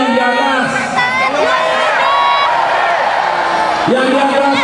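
A large political rally crowd for the PAN party in Jakarta cheers and shouts loudly and continuously, with whoops and raised voices rising and falling, and a louder burst of yelling near the end.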